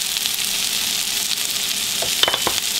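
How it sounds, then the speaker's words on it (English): Bacon and Brussels sprouts sizzle steadily in a hot pan, a dense continuous crackle with a few sharper pops near the end, heard up close with no talking. "I'm just going to let them sit here and kind of sizzle first"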